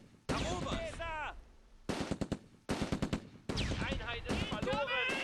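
Bursts of machine-gun fire in the World War II strategy game Close Combat II, several rapid rattling volleys separated by short pauses, fairly loud against the game's background.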